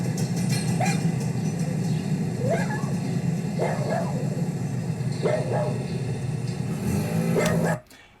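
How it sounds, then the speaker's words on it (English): A dog barks several times at a distance, spaced single barks over a steady low hum, before the sound cuts off abruptly. "I heard a dog barking."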